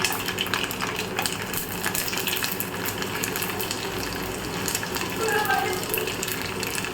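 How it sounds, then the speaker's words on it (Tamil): Garlic, mustard seeds and onion sizzle steadily in hot oil for a kara kuzhambu, a dense continuous crackling hiss that stays close and even throughout. "அதுவும் கடுகு வெங்காயம் பொரியுது பாருங்க"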